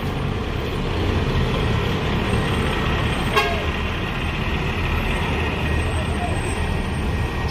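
A Sultan Class P86 bus pulls into Terminal Pondok Pinang with a loud, steady diesel rumble and a brief toot partway through, as someone talks over the engine noise.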